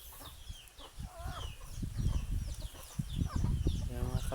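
Chickens cluck and chatter as they file into their coop, a close mix of short soft clucks and brief higher calls, with a person speaking quietly in the background.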